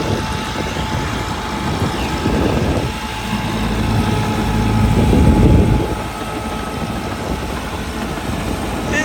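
A tractor engine runs in an open field, a steady low rumble that swells briefly in the middle and then settles, fairly close and loud with no talk over it.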